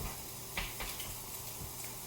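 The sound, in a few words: making a roux on the stovetop, stirring and sizzling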